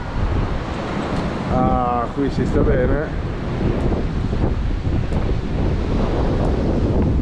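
Strong wind buffeting the microphone at Playa de los Genoveses beach in Cabo de Gata, a loud continuous rumbling roar with surf-like wash, while someone speaks briefly over it.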